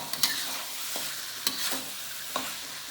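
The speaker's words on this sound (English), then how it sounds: "get it mixed up real good here so that it distributes this and collects up all that loveliness at the bottom." Chengdu chicken with celery stir-frying in a wok, a continuous sizzle broken by three or four sharp scraping clatters of the spatula tossing the pieces, close and fairly loud with no voices.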